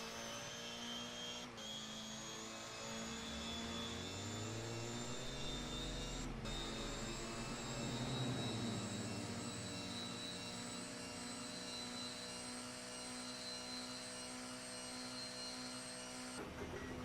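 A touring car engine heard onboard during a qualifying lap at Imola drones steadily with rising and falling revs and a few brief gear-shift breaks, continuous and fairly faint without talk.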